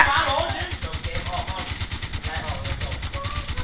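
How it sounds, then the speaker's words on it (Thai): Rapid bursts of automatic gunfire fired into the sky in the video game WarZ, a steady rhythmic rattle of many shots fired in quick succession, loud and continuous throughout. "ยิงปืนขึ้นฟ้ายิงปืนขึ้นฟ้า"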